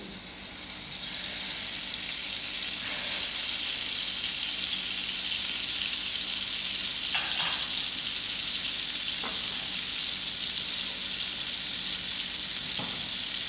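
Margarine melting in a pan over medium heat on a stove, giving a steady, continuous sizzle with a few faint clicks and clatters, no talking.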